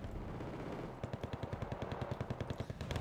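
Infantry gunfire in Wargame Red Dragon, including Afghanski troops, a rapid, evenly spaced burst of automatic shots that starts after a second of battle rumble and rattles on steadily and close.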